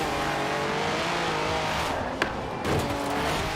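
An Austin-Healey 3000 MK III race car in Forza Horizon 4 drones steadily through a corner, its engine note holding loud and close, with a brief tire chirp near the middle and a swell of engine noise after it.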